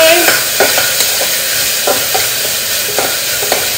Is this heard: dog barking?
no